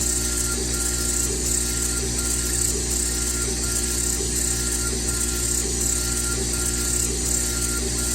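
A 100 watt engraving machine at 18% power works Rowmark plastic, giving a steady mechanical whir with a faint regular ticking throughout, close and unbroken with no talking.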